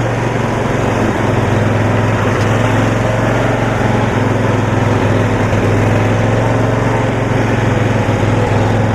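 A 1972 Cushman pickup engine drones steadily and loudly while driving in first gear, low range, with a constant buzzing, mower-like hum throughout and no talk.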